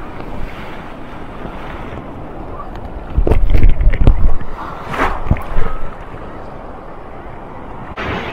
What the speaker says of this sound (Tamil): அலை பாருங்கள் இப்படி வருதுன்னு சொல்லி.